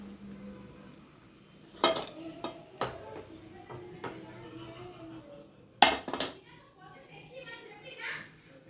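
A young girl plays at cooking with toy pots and utensils, giving scattered sharp clinks and clatters amid children's chatter and background voices.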